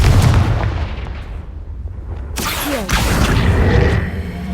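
A Confringo fire spell goes off in the Hogwarts Legacy video game, a heavy booming blast with a sudden sharp crack partway through, followed by a rumbling whoosh and no voices.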